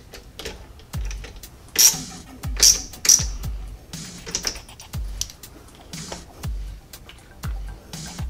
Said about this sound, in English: Nice gimbal ratchet.